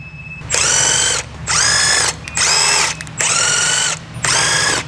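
Electric impact wrench with a 19mm deep socket removing wheel lug bolts on a 2015-2018 Ford Fusion: five loud, close bursts of whirring, hammering rattle, each about a second long with brief pauses between.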